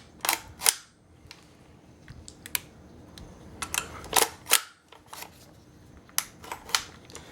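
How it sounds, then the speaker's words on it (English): Metal charging handle on a Classic Army M15A4 airsoft rifle being pulled back, giving several sharp, close mechanical clicks and clacks spread across a quiet room. "we pulled the charging handle back"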